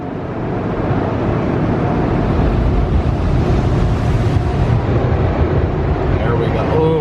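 Water sprays steadily onto a car windshield inside an automatic car wash, rinsing off soap suds with a loud, continuous rushing hiss.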